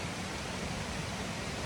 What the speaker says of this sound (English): there's a waterfall back up in there